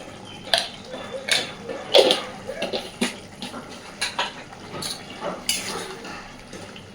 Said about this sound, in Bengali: এইবার খুব সামান্য গরম মশলা গুঁড়ো দিয়ে ঢাকা দিয়ে দেবো